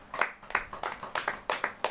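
A church congregation claps in unison to give thanks, about a dozen brisk, rhythmic claps in quick succession. The clapping is fairly quiet and even, with no talk over it.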